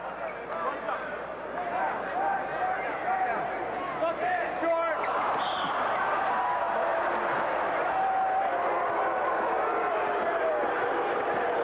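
A 1982–83 NBA arena crowd at a Portland Trail Blazers versus San Diego Clippers game gives a broad, sustained roar and murmur with no distinct peaks, and a commentator talks over it.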